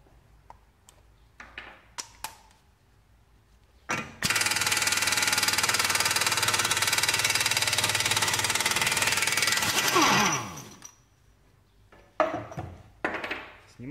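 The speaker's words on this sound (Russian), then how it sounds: "Ну и теперь нам осталось открутить гайку." Impact wrench spinning off a 46 mm front hub nut on a BMW 3 Series E46, a loud continuous rattling hammer lasting about six seconds, framed by quieter clicks and tool handling before and after.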